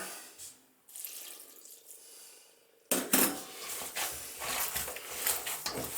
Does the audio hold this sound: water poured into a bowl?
yes